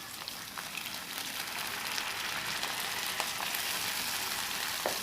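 Spices fry in a pan of oil for a papaya and fish curry, making a continuous close sizzle with faint crackles and no talking.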